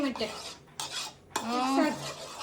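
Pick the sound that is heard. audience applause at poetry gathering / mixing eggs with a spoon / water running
mixing eggs with a spoon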